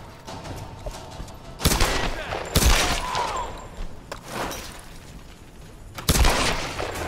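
Gunfire in the video game Tomb Raider: a few sharp, loud shots ring out at irregular intervals over a low ambient background.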